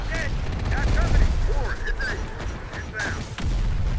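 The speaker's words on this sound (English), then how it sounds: "Artillery is doing the Lord's work over here." Artillery fire in a combat video game, several sharp booms and rumbling blasts spread through a few seconds, with chirping effects in between.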